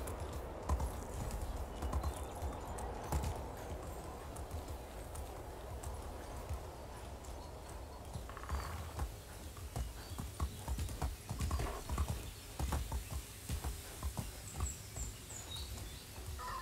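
Horse hooves clip-clop steadily in the Medieval Dynasty video game as a horse walks away, a continuous rhythmic patter over a rural ambient bed with faint bird calls.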